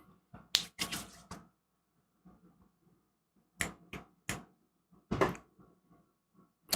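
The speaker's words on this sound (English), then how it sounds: "I usually do like a clap or like snaps or something, just so I can see when I'm editing" A series of sharp, dry finger snaps used as an editing sync marker, arriving in uneven clusters with short silent gaps between them, close and crisp with no talking.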